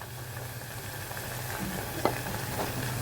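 Minced meat frying with onion, garlic and ginger in a cooker, giving a steady, moderate sizzle with faint stirring scrapes and one sharp clink partway through.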